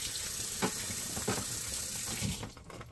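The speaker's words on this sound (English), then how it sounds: "Let me rinse this off." Tap water runs steadily as a leaking dye bottle is rinsed off under it, with a few louder splashes as the bottle is moved through the stream before the flow eases off.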